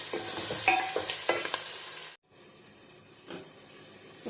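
Curry leaves crackle and sizzle loudly in hot oil with stirring scrapes while cooking fish curry, then the sound drops suddenly to a softer, steady frying hiss.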